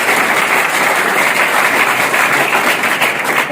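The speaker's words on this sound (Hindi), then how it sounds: "आपने माँ के लिए भी तालियां बजाई, हर किसी के लिए तालियां बजाई" An audience applauds at a public gathering in India, a continuous, dense wash of clapping from many hands at fairly loud level for the whole stretch.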